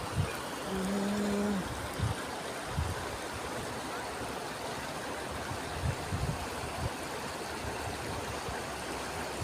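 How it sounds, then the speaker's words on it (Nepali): The Trishuli river rushing past as a broad, steady roar of flowing water, continuous and fairly loud, with a brief tonal hum near the start and scattered light knocks. "त्रिशुली नदी बगिरहेको छ, तरर बगिरहेको छ केटा हो त त्रिशुली नदी।"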